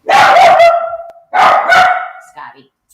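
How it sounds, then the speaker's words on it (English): A dog barks loudly and close by, two sharp barks followed by a shorter, softer yip. "Interruption by dog again."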